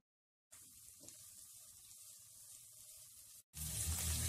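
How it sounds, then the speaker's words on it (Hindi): Andhra-style spicy chicken roasts in a pan over a high flame, giving a soft, steady sizzle that runs for a few seconds before a louder burst of frying. "अब हम फ्लेम को हाई पे करके इसे अच्छे से भून लेते हैं।"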